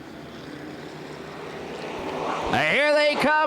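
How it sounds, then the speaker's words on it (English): Street stock race cars at Winchester Speedway roar past, building from a distant rumble into a loud pass-by with rising and falling engine tones near the end. "he certainly wants to get out of the way of the 17 snarling street stocks here at Winchester Speedway"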